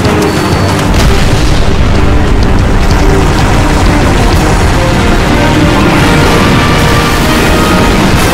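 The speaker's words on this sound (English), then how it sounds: "Detonating in 3, 2." A detonated charge blows up a pylon in the Halo: Reach campaign, a massive sustained boom and rumble filling the whole stretch at very high loudness, with no speech.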